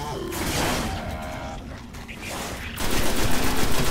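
Auto rifle fire in the shooter Destiny rattles in rapid, sustained bursts, loud and close, with a brief lull in the middle before the firing grows heavier again.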